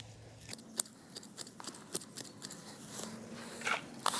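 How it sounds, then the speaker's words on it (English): Sharp, clean shears snip back hardy geranium stems in a garden. The cuts come as a quick series of close, crisp clicks and crunches at an uneven rhythm, with no talk. "just take some nice clean sharp shears like this and just cut them back to, I would say, like 3 to 4 inches"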